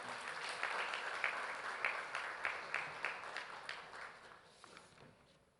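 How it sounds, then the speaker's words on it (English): A conference audience at a national tax conclave keeps up applause, a fairly faint but steady patter of many hands that slowly thins and fades out. "Kindly keep the applause going as we welcome him."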